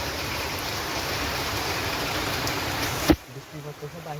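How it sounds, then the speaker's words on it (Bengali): Heavy rain pours outside a train on an overcast village day, a dense, loud, steady hiss for about three seconds that cuts off sharply, leaving a quieter background. "দেখছেন বৃষ্টি পড়তেছে, অনেক বেশি পড়তেছে।"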